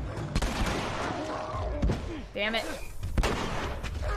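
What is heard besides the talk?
shotgun firing in video game The Last of Us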